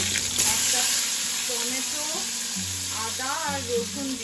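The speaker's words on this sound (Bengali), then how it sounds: "কিছুক্ষণ ভেজে নেব টমেটো আদা রসুন কাজু বাদাম" Tomato, ginger, garlic and cashews fry in oil with a steady, close sizzle and the scrape of stirring, while a faint voice sounds briefly over the cooking.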